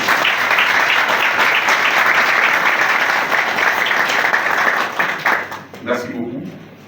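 Sustained crowd applause at the opening of a political party congress as a delegation is welcomed, dense and loud before fading, with a voice over the PA near the end.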